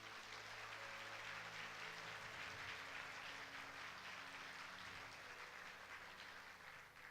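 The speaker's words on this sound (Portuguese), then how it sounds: "Vamos dar um aplauso ao Senhor Jesus?" A church congregation at a Sunday service applauds, a soft, sustained wash of clapping heard from some distance, with a low hum and faint tones beneath it.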